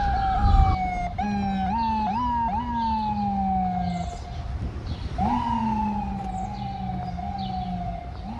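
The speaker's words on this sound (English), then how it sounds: "One of the things you can hear most now is the sound of birds and the sound of ambulances." An ambulance siren wails along a quiet New York street, its rising and falling tones repeating loudly and steadily, fading slightly then swelling again, with no voices.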